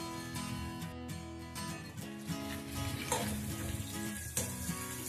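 Boiled potato and cauliflower bhaji frying in a pan, with a continuous close sizzle and crackle under intermittent scraping and stirring strokes.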